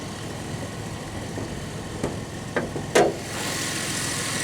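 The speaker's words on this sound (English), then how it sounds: "It seems to be running okay. Sounds like I said, there's a slight exhaust leak." An old van with a 3900 V6 engine idles steadily with a slight exhaust leak, a low, even rumble heard close with a few faint knocks and a brief clunk near the end, no talking.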